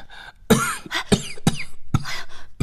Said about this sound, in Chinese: 怎么咳嗽的那么厉害啊？